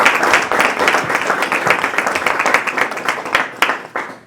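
Applause from the audience at a community forum on early childhood education, honoring the panel: close, crisp individual claps within a lively round that thins and tapers off near the end.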